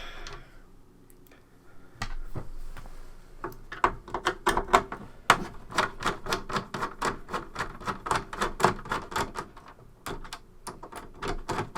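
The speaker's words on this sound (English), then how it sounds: "So let's get these screws out." Screws come out of the case of an early Dragon 32 home computer with a steady run of crisp, close clicking ticks as a screwdriver turns, quiet and regular with short pauses, no voices.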